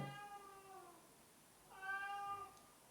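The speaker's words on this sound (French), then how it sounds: "T'as fini de miauler pour rien?" A cat meows indoors, two drawn-out, rising-and-falling cries separated by a short pause, close and fairly quiet with no other sound.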